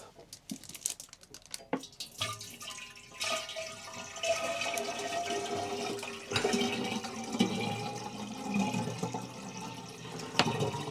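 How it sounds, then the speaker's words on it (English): Water pours and splashes into a narrowboat diesel heater's header tank with some rattling and handling noises, continuous and fairly close, growing fuller over several seconds. "let's fill the header tank up with water"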